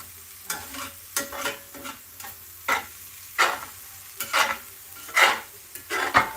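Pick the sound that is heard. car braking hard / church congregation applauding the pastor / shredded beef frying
shredded beef frying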